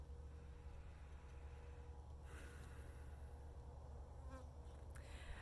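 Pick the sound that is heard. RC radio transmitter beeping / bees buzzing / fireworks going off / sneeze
bees buzzing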